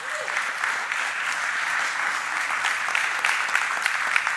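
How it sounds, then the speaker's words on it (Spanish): Church congregation applauding the Lord during a Spanish-language sermon, a steady, dense crowd of clapping hands filling the room continuously from start to finish. "Den un fuerte aplauso al Señor."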